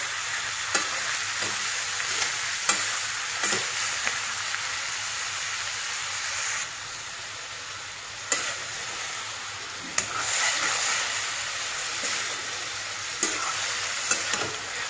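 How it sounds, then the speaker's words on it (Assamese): Local chicken fries slowly in a pan over low heat, a constant soft hiss of sizzling oil broken by occasional sharp pops, with one brief quieter dip partway through and no talking. "লাহে লাহে ভাজি থাকক"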